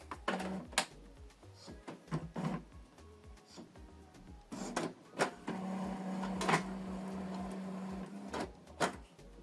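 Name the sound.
Epson EcoTank ET-2862 printer starting up after switching on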